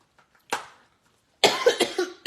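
A person coughs once sharply, pauses, then breaks into a close, loud run of four or five hacking coughs in quick succession.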